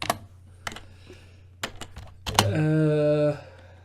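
Scattered keystrokes tap on a computer keyboard, close and fairly faint, then a short burst of quicker typing is partly covered by a voice speaking briefly.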